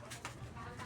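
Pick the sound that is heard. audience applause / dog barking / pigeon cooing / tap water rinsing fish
pigeon cooing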